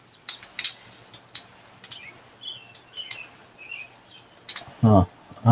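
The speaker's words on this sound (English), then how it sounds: "Didn't know you could hear the birds." Birds outside chirp faintly through an open window in scattered high tweets, mixed with clicking keyboard or mouse taps and a short burst of speech near the end.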